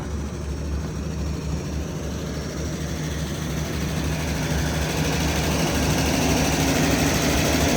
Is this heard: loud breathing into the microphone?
no